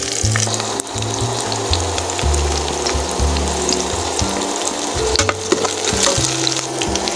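Chopped onions and green chilies hit hot oil with lightly fried cumin seeds, giving a loud, continuous crackling sizzle that runs steadily throughout with no voices.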